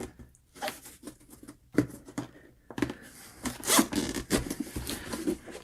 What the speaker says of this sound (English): I like that the zipper's all metal instead of plastic